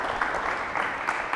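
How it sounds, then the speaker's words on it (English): Steady clapping from a crowd, a dense broadband patter with a few louder bursts, continuing without pause. "please let's welcome them with a round of applause"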